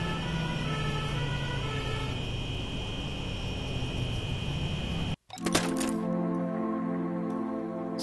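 Ambulance siren in the video game Surgeon Simulator, a steady loud wail with a sudden dropout near the middle before the siren resumes with a different, harsher tone.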